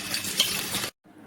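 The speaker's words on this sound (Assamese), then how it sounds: "এয়া পিঁয়াজ দি দিলোঁ।" Onions tipped into hot oil in a kadai crackle and sizzle for a short, dense burst that stops abruptly, followed by a faint, low continuing fry.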